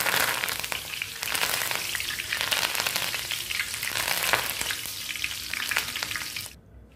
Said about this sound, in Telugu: బూందీ తీసినప్పుడు ఇట్లా వేయించుకోండి